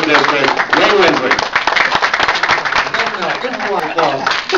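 A crowd at a fundraiser claps and applauds for congressional candidate Wayne Winsley, a loud, continuous patter with voices calling and talking over it throughout.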